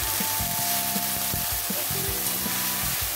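Cumin and homemade garam masala for a dahi pakoda curry sizzle steadily in a pan after a splash of water, with a close, continuous frying hiss and faint scraping stirs.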